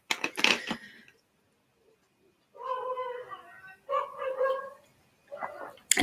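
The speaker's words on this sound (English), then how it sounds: "And that's the neighbours' dogs in the garden outside." Neighbours' dogs in a garden bark in a few short bursts, heard through an open window from outside at a moderate distance, with silent gaps between.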